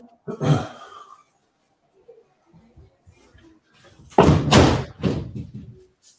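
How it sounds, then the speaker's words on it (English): An office door being closed: a sharp thud near the start, then a louder pair of slamming knocks a few seconds later, heard close with faint background noise between them. "I'm going to close my door from office."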